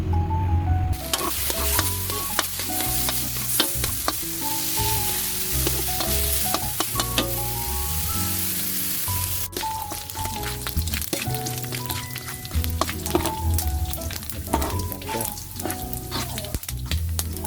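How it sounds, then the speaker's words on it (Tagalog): Pork fat sizzling and rendering in a pan for Ilocano pork igado, a continuous close crackle with frequent sharp pops and spatters and no voices. "Katulad sa dati, palalabasin natin yung mantika niya."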